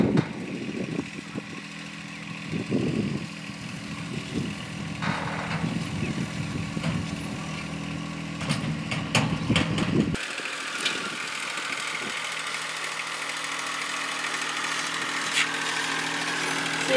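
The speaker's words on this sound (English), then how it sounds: "Of course, Ollie, he loves the tractor" A tractor engine runs on a small farm during a goat shelter build, a low rumbling throb in the first ten seconds that gives way to a thinner, steadier mechanical drone.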